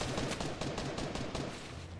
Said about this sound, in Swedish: Tänk på dina skott, Julle.